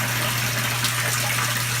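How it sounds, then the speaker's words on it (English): Rainwater pours steadily into an aquaponics tank, a dense continuous gushing wash that stays loud and even throughout with a low hum beneath. "So right now I'm adding in rainwater"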